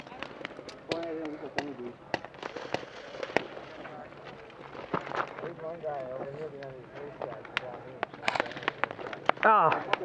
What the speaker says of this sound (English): they got their machine gun set up on our position